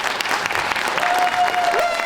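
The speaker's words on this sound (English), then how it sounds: "So a round of applause for that," A short burst of applause from an audience at a dog grooming demonstration, steady clapping throughout with a faint tone in the background.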